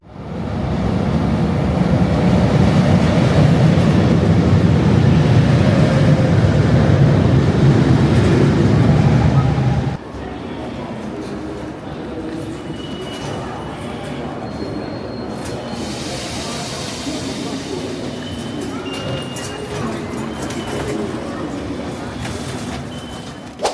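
Metro train at the Disneyland Paris station: a loud, steady rumble of the arriving train for about ten seconds, then a quieter continuous hum and station noise with faint squeals, recorded close by.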